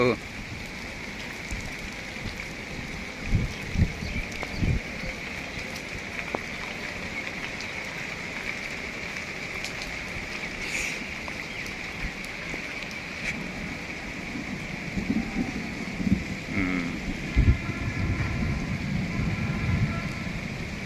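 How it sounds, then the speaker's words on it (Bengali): Rain falls in a forest, a steady, close hiss of drops on leaves and ground that runs the whole time, with a few louder patters and low thumps scattered through it. "এই তো চলতেছে বৃষ্টি।"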